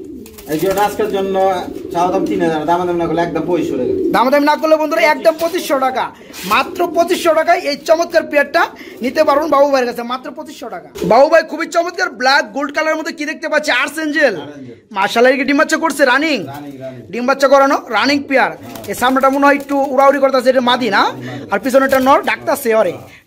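Pigeons, including a male, coo in soft repeated throaty bursts at a pigeon sale, heard close by and mixed in with someone speaking continuously.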